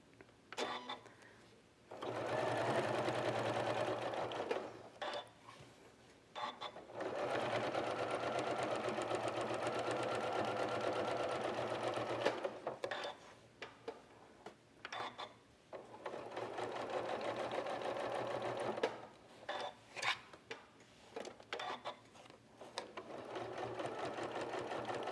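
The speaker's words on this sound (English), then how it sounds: "I'm going to show you how we can stitch a heart shape on it" A sewing machine stitches a heart shape onto a quilt game piece, running in several long steady bursts of close, loud motor whirring separated by short pauses.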